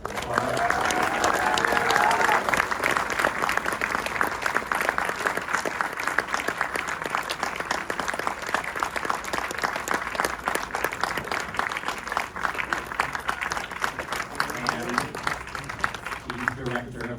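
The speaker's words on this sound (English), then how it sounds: "Please give him a very warm applause." A screening audience applauds Mark Hamill at a film Q&A. Loud, sustained clapping from a large crowd runs the full length, with a voice speaking over it early on.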